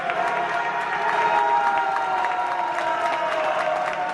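Steady cheering and applause from a limited-capacity crowd inside a college basketball arena during a North Greenville men's game against Lees-McRae, a continuous moderately loud swell with scattered claps and a faint voice beneath.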